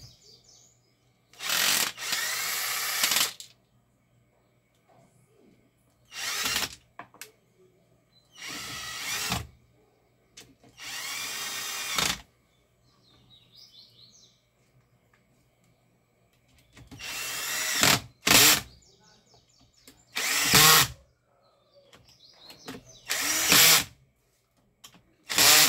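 Power drill driving screws while an Arno fan is put back together, several short loud whirring bursts separated by quiet pauses, with faint bird chirps in the background.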